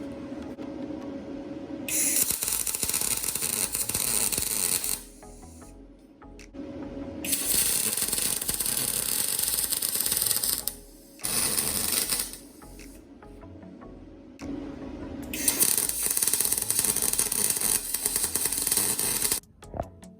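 A MIG welder runs beads on a steel bar of a turbo Honda CRX buggy chassis, with four long bursts of crackling, sizzling hiss separated by short quiet gaps, loud and close.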